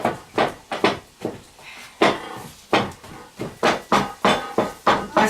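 A wooden pestle pounds tovkenia in a pot in a Ukrainian kitchen, loud regular thuds repeating about twice a second, close and alone without talk.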